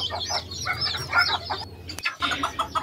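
Malay fantail ornamental chickens on a small farm cluck and chatter in quick overlapping bursts, close and fairly loud, with a sharp knock partway through.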